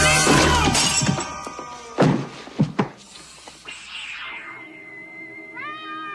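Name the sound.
cat meowing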